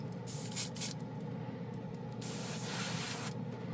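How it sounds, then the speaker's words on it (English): An airbrush fitted with a .28 needle sprays chrome paint: two quick short hissing bursts, then a longer continuous spray, close and fairly quiet. "let's airbrush this"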